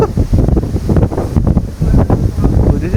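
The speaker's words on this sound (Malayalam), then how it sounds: "ഈ ഭാഗത്തൊക്കെ കാറ്റ് അങ്ങ് വീശുന്നില്ലേ" Strong typhoon wind in Hong Kong buffets the microphone in loud, rough gusts, with no voices heard.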